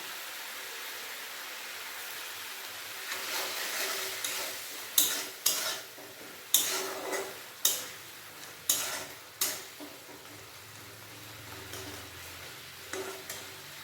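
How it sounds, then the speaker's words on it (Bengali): Tomato sautés with spices in a pan for a vegetarian pointed gourd dish: a quiet sizzle runs throughout while a spatula scrapes and knocks in a repeated rhythm of sharp strokes through the middle, then eases off. "ভালোভাবে টমেটোটা মশলার সাথে কষিয়ে নেব"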